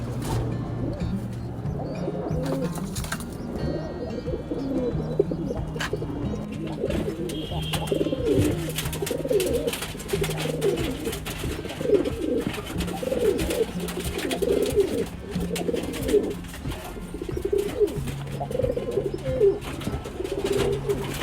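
Blood-line high-flyer pigeons coo steadily for over twenty seconds, their overlapping rolling calls close and continuous against a light background hum.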